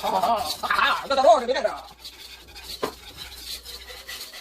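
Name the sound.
stirring shrimp egg foo young mixture in pan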